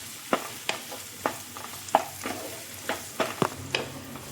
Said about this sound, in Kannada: ಇವಾಗ ಕೆಂಪು ಕ್ಯಾಪ್ಸಿಕಮ್ ಮತ್ತು ಹಸಿರು ಕ್ಯಾಪ್ಸಿಕಮನ್ನು ಒಟ್ಟಿಗೆ ಹಾಕ್ಕೊಳ್ತಿದ್ದೀನಿ. ಇದನ್ನು ಹಾಗೆ ಚೆನ್ನಾಗಿ ಫ್ರೈ ಮಾಡ್ತಿದ್ದೀನಿ